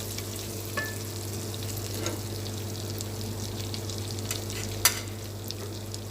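Butter sizzles in the spice-coated pot left from cooking chicken curry, a continuous soft frying crackle close by, with one sharp clink partway through.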